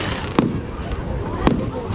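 Fireworks burst on bonfire night, two sharp booms standing out over a constant crackling background while people talk nearby.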